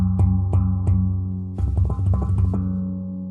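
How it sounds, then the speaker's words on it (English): An Axiom Apex outie handpan played with its port plug removed, a few struck tones with deep ringing bass, then a quick flurry of taps, close and resonant, with no talking. "now you can hear with the port plug removed, there's a lot more frequencies flying around"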